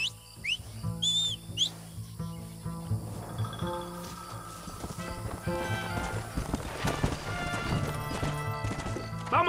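Hooves clip-clop quickly in a galloping rhythm in Red Dead Redemption, with a horse whinnying, a whistle and music-like tones in a busy game soundtrack.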